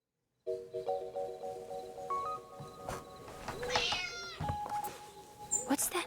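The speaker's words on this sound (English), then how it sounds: "Oh, it must be Nora's cat." Nora's hungry cat in the game Dordogne meows several times, close and fairly loud, with sustained tonal game sounds ringing underneath and a last sharp cry at the end.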